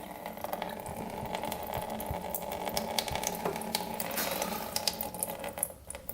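Old, gross-looking coolant draining from a Raptor 700 ATV that sat outside for 13 years, a steady trickling, splashing liquid flow that runs continuously at close range with no talk.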